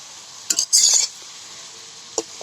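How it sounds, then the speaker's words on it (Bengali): Oil-free mango pickle, cooked over a wood fire, is gently stirred in a pot: a few short, close scraping strokes, then a quiet gap and one brief final scrape. "আলতোভাবে একটু নাড়িয়ে দিই।"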